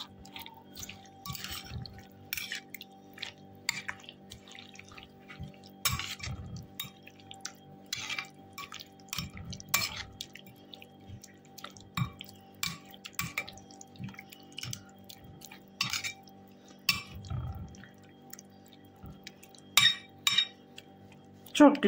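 A spoon stirs purslane yogurt dip with garlic and salt in a bowl, making repeated close clinks and wet scraping taps in an irregular rhythm, with a faint steady hum beneath.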